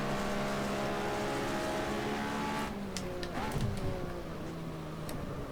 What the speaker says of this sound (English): I can hear the cars behind me